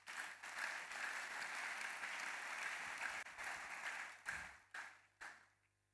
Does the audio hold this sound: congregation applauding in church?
yes